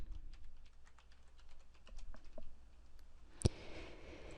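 Someone types a password on a computer keyboard while creating a Google account: a quick run of soft, close key taps ending with a sharper click.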